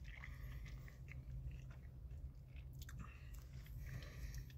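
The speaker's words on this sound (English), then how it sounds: "Let's give it a bite." Someone biting into and chewing a Freebirds burrito in a spicy tortilla, very faint close mouth sounds with soft squishy chews against a quiet background hum.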